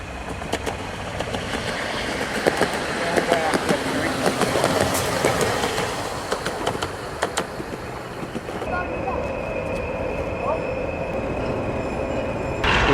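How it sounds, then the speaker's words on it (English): A little narrow gauge railway train runs at Kidderminster station, a moderate rumbling roll with squealing wheels, settling into a steadier hum near the end. "A nice little feature they've got here at Kidderminster is this little narrow gauge railway."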